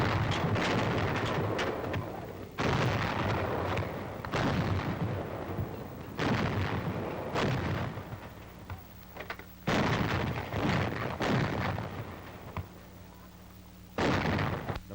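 A 90 mm antiaircraft gun fires round after round, each a loud, booming blast with a rolling tail, spaced about one to two seconds apart, with wind buffeting the microphone between shots.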